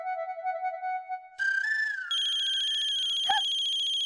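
A phone ringtone plays a short tonal melody, then switches to a brighter, steady repeating ring, close and clear with no talking.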